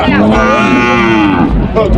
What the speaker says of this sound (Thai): วัวเยอะมากวัวเยอะมาก